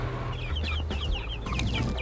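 Chickens clucking close by on a farm as they are being moved, with a steady run of short, overlapping clucks over a low background rumble.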